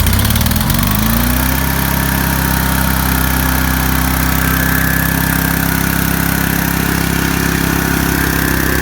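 A small welder generator engine rattles into life, then runs loud and steady as it warms up, a continuous close drone with no voices.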